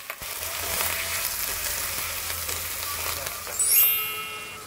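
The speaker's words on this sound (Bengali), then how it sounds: "মশলাটাকে আমি নাড়াচাড়া করে ভালো করে ভেজে নেব।" Tomato and spice masala frying in a pan while being stirred, a steady close sizzle with scraping stir sounds, a brief brighter hiss near the end.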